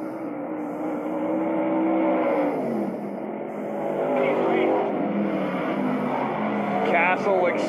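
Vintage race cars lap a track at the Melvin Joseph Memorial event, engines droning steadily and swelling as the pack runs down the back straight into turn three, heard under continuous race commentary.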